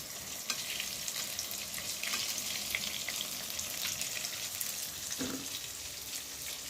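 Basa fish fillets frying golden in a pan, a steady crackling sizzle with faint clinks of utensils, moderately quiet and continuous with no talking.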